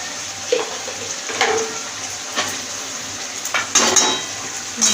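Cauliflower and potato curry with garam masala and ghee is stirred in a pan, with soft intermittent scrapes and metallic clinks of a spoon over a faint, steady background hiss.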